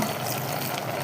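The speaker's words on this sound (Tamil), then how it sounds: "கொஞ்சமாக தண்ணி ஊற்றிக்கலாமா" A little water pours steadily into a pan of cooking spinach greens for a moment, a dense splashing flow close by, with no voices.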